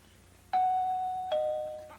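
A video doorbell answering machine sounds a clear two-tone ding-dong chime, loud and close, each tone ringing out and fading with no voices.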